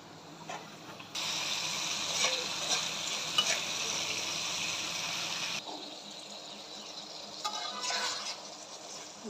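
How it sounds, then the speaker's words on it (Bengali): Garlic, panch phoron and green chilies hit hot oil with a steady, loud sizzling hiss that holds for several seconds, then drops to a quieter frying crackle with brief stirring flare-ups. "রসুন দিয়েছি, এখন পাঁচফোড়নটা দিলাম, দিব হলো কাঁচামরিচ সব দিয়ে দিচ্ছি।"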